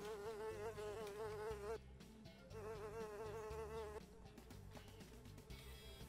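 A fly in the video game Fly Simulator gives off a loud, close, continuous buzz that wavers in pitch. It cuts out briefly twice, then gives way to scattered clicks and game sounds.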